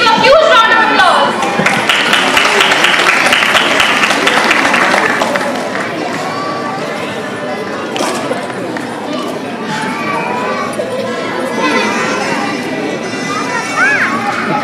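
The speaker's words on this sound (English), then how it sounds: "Please give a huge round of applause." Applause and cheering from an audience at a school annual fest as a chief guest is invited onto the stage, loud and busy with children's voices and shouts mixed in, easing to a lower crowd murmur after a few seconds.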